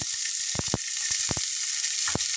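Raw onion hitting hot oil with mustard seeds in a pan for a hotel-style tomato mash, a steady close sizzle broken by a few sharp crackles and light stirring scrapes, with no voices.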